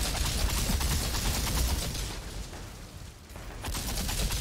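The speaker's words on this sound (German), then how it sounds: "Wir hauen Lavageschosse drauf" Rapid gunfire from a weapon loaded with lava rounds in the video game Outriders, a dense, loud burst of shots. The shooting thins briefly partway through, then picks back up.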